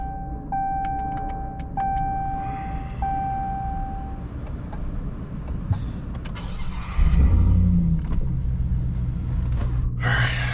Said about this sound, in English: So the truck did shut off. Let me turn it back on.